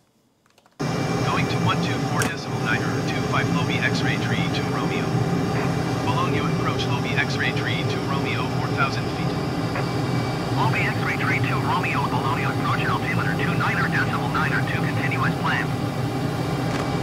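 An F/A-18 Hornet jet in Microsoft Flight Simulator drones with a steady, loud engine roar that holds for the whole stretch while someone talks over it.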